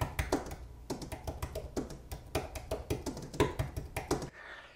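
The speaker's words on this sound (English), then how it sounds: "it has been very enjoyable typing on this keypad" Brisk, close typing on an Apple Magic Keyboard 2, crisp clicky keystrokes tumbling in quick uneven bursts with a short pause partway through.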